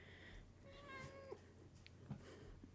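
A pet cat meows indoors, a few short rising-and-falling mews close by over a faint background hum, fairly quiet and alone.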